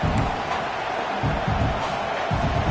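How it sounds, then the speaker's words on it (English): Football stadium crowd roaring steadily during a fourth-down field goal attempt before halftime, a dense continuous wash of voices with low rumbling swells, no clear single voice standing out. "This crowd trying to do its part to get inside the kicker's head"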